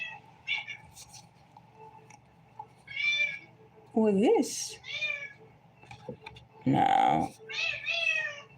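A cat meows several times, close and clear, with drawn-out rising and falling cries between stretches of a person talking nearby.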